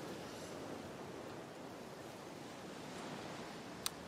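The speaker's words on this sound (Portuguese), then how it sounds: "temos aqui os efeitos da água e da chuva" Ambient water and rain effects from the Diablo IV video game make a faint, steady wash of hiss and rumble throughout. A tiny tick comes near the end.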